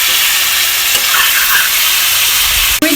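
Chicken meat fries in a wok for an Assamese village-style chicken curry, giving a loud, continuous close sizzle and hiss with occasional stirring scrapes and a sharp knock near the end.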